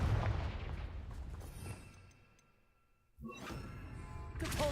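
A Confringo fire spell bursts in the Hogwarts Legacy video game, a loud booming blast with heavy low rumble that fades into near silence before another sharp impact and rising clatter of combat.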